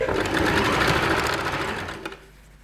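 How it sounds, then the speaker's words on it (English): A sewing machine stitches along the seam of a cape where ribbing has been attached, giving a loud, close, continuous mechanical whirr that winds down and stops near the end. "I'm going to sew just like I did before along the seam of where I applied the ribbing."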